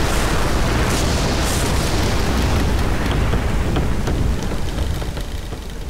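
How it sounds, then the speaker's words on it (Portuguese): Heavy rain pours down in a dense, continuous roar with deep rumbling underneath, loud and close throughout, easing slightly toward the end with no voices. "E houve chuva sobre a terra 40 dias e 40 noites."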